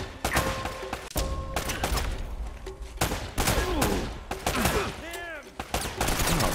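Gunfire in Uncharted: Drake's Fortune, with rapid repeated shots and bursts across the whole stretch, mixed with ricochet whines and other game effects, fairly loud and steady.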